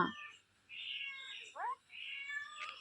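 A talking parrot imitates a cat's meow, producing a few drawn-out, wavering meow-like calls up close in a quiet setting.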